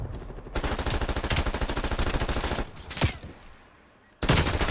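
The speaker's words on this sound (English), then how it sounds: "Sniping with the AK." Rapid automatic fire from an AK rifle in a first-person shooter game, loud sustained bursts with a brief pause, a single sharp shot, then a quieter lull before another loud burst starts.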